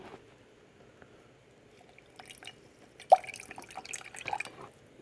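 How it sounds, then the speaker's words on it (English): Distilled water poured into a small container during a household pH test, heard as a quiet, faint trickle with a few soft drips and splashes toward the end. "Now I'm going to add a little bit of this distilled water in here."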